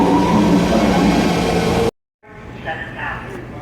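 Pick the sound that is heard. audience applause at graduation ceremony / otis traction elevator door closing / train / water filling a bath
train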